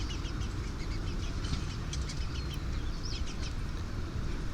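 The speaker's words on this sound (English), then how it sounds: "I hear bird voices." Birds call outdoors under a tree during a quiet meditation, scattered chirps and a few fowl-like clucks over a steady broad background hiss, moderately distant and with no talking.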